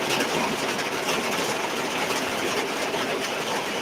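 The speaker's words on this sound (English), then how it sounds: "this rain is loud" Heavy rain pours down outside in a dense, continuous roar, steady and loud with no breaks and no talking.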